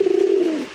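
A male pigeon of an old local round-headed breed gives a single close, low, throaty coo that swells and fades within a second, alone with no other sounds.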